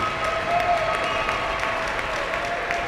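An arena crowd at an ice sledge hockey gold medal game in Buffalo applauds steadily as the trophy is raised, a dense, sustained wash of clapping and cheering.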